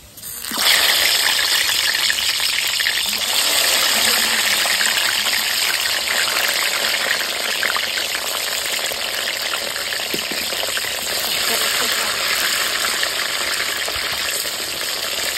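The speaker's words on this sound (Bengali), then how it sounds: "বেগুনটা এবার ভাজি, বেগুনি" Eggplant slices fry in hot oil with a loud, steady, close sizzle that holds nearly unchanged throughout.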